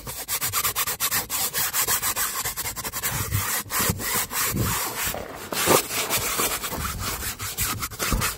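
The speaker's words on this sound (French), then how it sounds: "Donc là, tu prends ta petite brosse et on y retourne." A small, fairly fine brush scrubs very dirty fabric on a car seat, giving a steady, close rasping and rubbing sound in quick back-and-forth strokes throughout, with no talk.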